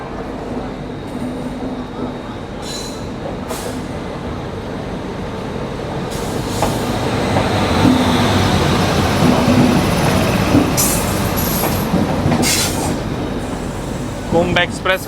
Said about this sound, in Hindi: 1 नंबर प्लेटफॉर्म पे ये आ रही है अभी उपासना एक्सप्रेस